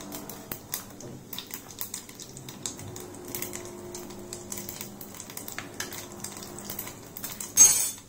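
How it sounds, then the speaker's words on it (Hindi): Cumin seeds added to a teaspoon of hot oil in a pan: rapid crackling and spitting with scattered metallic clinks of a spoon, close and busy throughout, ending in a louder scrape, with no talking. "मैंने 1 टीस्पून ऑयल लिया है, उसमें मैं थोड़ा सा जीरा ऐड कर रही हूँ।"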